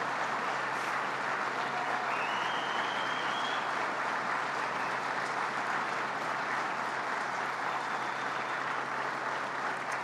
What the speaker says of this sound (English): a round of applause to our governor